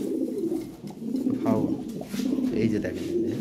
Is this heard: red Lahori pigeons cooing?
yes